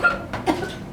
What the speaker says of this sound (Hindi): तुम्हें बहुत ज्यादा खांसी हो रही है